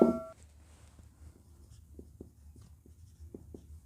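A pen writes on paper during a maths lesson on converting percentages to fractions, giving soft, close scratches and taps in an irregular rhythm after a brief louder sound at the start, with no talking.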